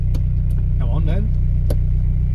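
A car with failed brakes climbs uphill in second gear, its engine a steady, loud low drone throughout with a brief voice rising over it midway.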